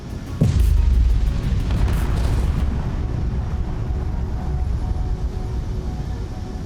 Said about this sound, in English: Oh, we're still firing at it.